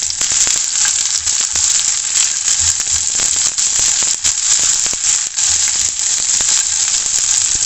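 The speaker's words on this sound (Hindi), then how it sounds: "प्याज को आपने 1 मिनट के लिए इसके साथ फ्राई करना है ज़ीरे के साथ" Chopped onion with cumin seeds frying in hot oil in a pan gives a steady, loud sizzle that runs unbroken and close throughout, with faint crackles and occasional stirring clatter.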